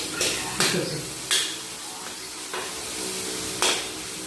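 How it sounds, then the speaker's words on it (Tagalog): Tomatoes and ginger sautéing in a pan for a mussel dish, with a steady low sizzle broken by several sharp bursts of hissing and stirring scrapes, heard under a person talking. "kailangan gisahin muna yung mga kamati, luya, saka bago natin ito ilagay"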